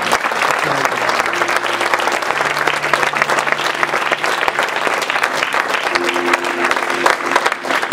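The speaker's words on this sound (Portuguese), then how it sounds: "Aplauda o nome dele" A church congregation applauds in dense, steady clapping that carries on for the whole stretch, with a sustained tone and voices faintly underneath.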